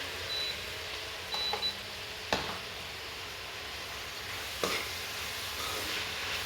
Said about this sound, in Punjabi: ਹੁਣ ਆਪਾਂ ਇਹਨੂੰ ਚੰਗੀ ਤਰ੍ਹਾਂ ਭੁੰਨ ਲੈਣਾ